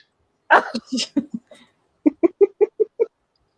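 A chicken clucks in a quick, evenly spaced run of about six short clucks, after a brief burst of other vocal sounds; close and clear.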